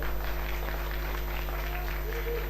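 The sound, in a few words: studio audience applause at live show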